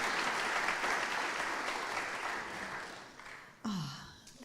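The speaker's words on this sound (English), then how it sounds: "Let's give a great round of applause for Martin Garrett." Audience applause for musicians Jan Garrett and JD Martin: a full, steady wash of clapping that thins toward the end before a brief louder burst of sound near the close.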